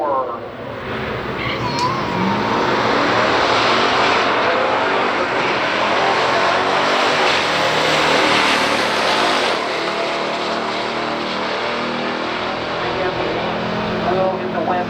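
A 1969 AMC Hurst SC/Rambler drag races a supercharged 1964 Studebaker with a 304 engine, loud engines roaring continuously at the strip, with an announcer talking over the noise.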